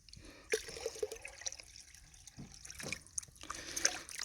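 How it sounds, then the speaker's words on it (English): Muddy, clay-clouded water tipped out of a gold pan beside Anderson Creek in Warrandyte, giving a few short splashy pours and trickles, fairly close and moderately loud, with no talk. "let's tip some of this water out"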